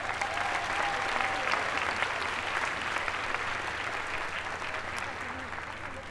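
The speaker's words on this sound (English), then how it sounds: "Let's give them a round of applause." An audience at an evening recognition ceremony applauds families and loved ones, a sustained wash of clapping from a crowd heard at a moderate distance, fading slightly toward the end.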